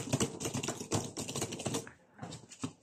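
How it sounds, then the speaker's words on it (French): Rapid typing on a compact foldable LAB31 keyboard from Action, a dense run of close, clicky keystrokes that briefly thins out near the end before a few more taps. "Vous voyez Bart comment il tape vite."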